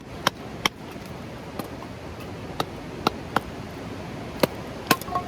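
Firewood split at a campsite by driving a hammer against it on a rock, giving sharp, isolated knocks spaced irregularly, about nine over several seconds, each crisp and fairly close over a steady outdoor background hiss.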